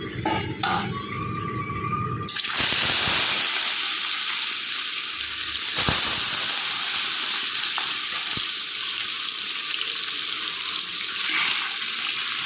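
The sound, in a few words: rohu fish frying in oil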